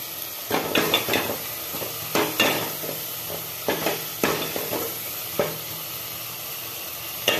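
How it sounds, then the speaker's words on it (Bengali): Tomato and spice masala with turmeric sizzles in a hot pan as it is sautéed. Repeated sharp stirring scrapes and clatters sit over a constant frying hiss, close and fairly loud. "আস্তে আস্তে টমেটোটাও হিটেড হচ্ছে এবং মশলাটাও কষা হচ্ছে"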